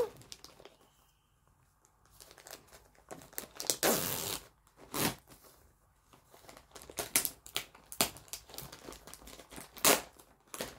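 A parcel of fabrics and cross-stitch kits being opened, plastic packaging crinkling and tearing in irregular close bursts, with loud rustles near the middle and quieter handling between.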